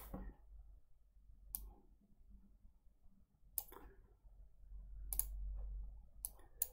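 Several sharp mouse clicks on a button at a computer running gnuplot in a terminal, spaced irregularly over a quiet room background with no talking.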